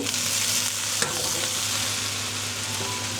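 Cauliflower and potato pieces sizzle and fry in a hot pan while being stirred, a steady close hiss with scraping stir strokes and a sharp clack near the start, no voices.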